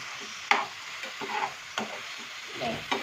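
Masala prawn fry being stirred in a pan, a soft continuous sizzle broken by sharp scraping and clicking strokes of a spoon at irregular intervals.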